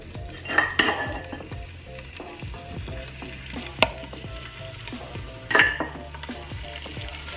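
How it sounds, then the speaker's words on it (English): Short ribs searing in a hot Instant Pot, a loud, continuous sizzle and crackle with occasional clanks of utensils against the metal pot, nearby and with no voices. "Once our Instant Pot is nice and hot, we're going to add our short ribs."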